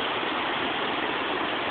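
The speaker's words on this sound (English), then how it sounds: "How fast the water's flowing?" High, fast-flowing water of the Neponset River in Dorchester rushes under a bridge in a constant, muffled whooshing roar, steady and fairly close, with no speech.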